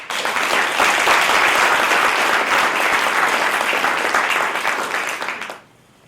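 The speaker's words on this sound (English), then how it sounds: "Let's give them a big round of applause" An audience breaks into dense, sustained applause at a community talk event, a steady wash of many hands clapping for about five seconds before cutting off abruptly.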